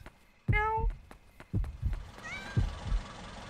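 A cat meows in the horror video game Yomawari: Night Alone. Two clear, drawn-out meows stand out over soft low thumps and faint background sounds.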